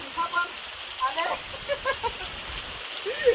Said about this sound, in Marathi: पाहू शकता मस्त पाऊस आज आलाय